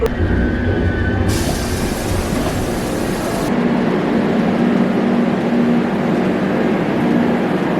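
A Sofia metro train rumbles steadily through a station, with a continuous low roar of wheels and motor and a high hiss that rises and then drops partway through, without any speech.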